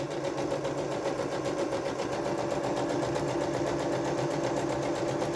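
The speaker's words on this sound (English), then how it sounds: "And now it's sewing all layers together." Sewing machine stitching through all layers along the curved edge of a dungaree, a continuous close rapid mechanical whirr with a steady fast stitch rhythm, no pauses and no talk.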